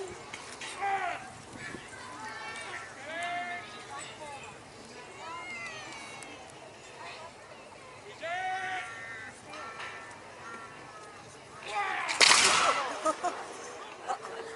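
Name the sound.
muskets fired in a historical re-enactment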